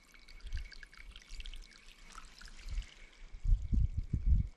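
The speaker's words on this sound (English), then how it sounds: "there's not ice stopping the water from coming out" Water from a hose pours and splashes at an off-grid greenhouse, a soft, uneven trickling stream with a few heavier low gushes near the end, fairly quiet and with no one talking.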